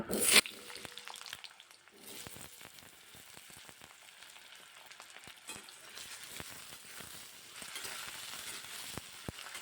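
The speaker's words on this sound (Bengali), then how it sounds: "আলুগুলোকে ভালো করে একটু ভেজে নেব" Potatoes frying in mustard oil in a kadai for a mixed vegetable dish, a steady close sizzle with scattered crackles and stirring clinks, loud at the start then settling to an even hiss.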